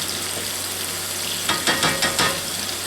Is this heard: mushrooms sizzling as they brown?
yes